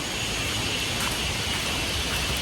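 Light rain falls steadily in a cool mountain village near forest, a soft, even hiss of drops with no distinct individual hits and no talking.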